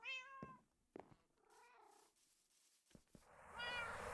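Ocelots meowing in a jungle area of Minecraft GregTech New Horizons: several distinct cat meows and calls spaced across a few seconds with soft clicks between them, fairly quiet, with no talking over them.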